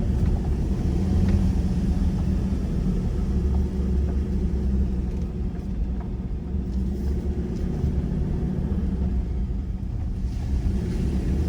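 A vehicle drives along a hard gravel track with a few potholes on the 309 Road in Coromandel, New Zealand, producing a loud, continuous low rumble of engine and tyres from close by, with no talk.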